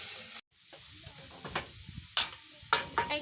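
Lentils with turmeric and salt are stirred in a pot over soft steady sizzling, with a few scraping strokes and sharp clinks as the lid goes on.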